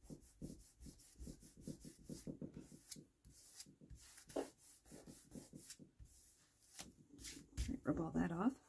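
Rubbing away excess material from a handmade craft card gives a brisk, close, scratchy back-and-forth rhythm that pauses briefly before resuming, with a voice speaking softly at the end.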